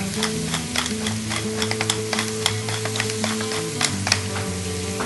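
Pork chops fry in a skillet for a Southern fried dish, giving a steady, loud, close sizzle and crackle with no talking.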